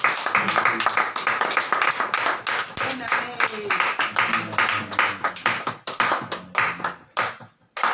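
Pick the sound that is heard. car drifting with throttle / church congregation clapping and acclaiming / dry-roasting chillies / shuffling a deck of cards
church congregation clapping and acclaiming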